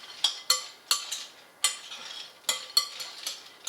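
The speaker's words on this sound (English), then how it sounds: "So continue to mix this up." A spoon clinks and scrapes in a bowl as salted pumpkin seeds are mixed, giving sharp, irregular taps and rattles about every half second, close and clear with no talking.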